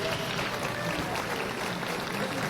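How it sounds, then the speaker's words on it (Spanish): Audience applause from a conservative crowd in a played recording, a dense steady patter of many hands heard fairly faintly and without a break. "Y lo aplauden"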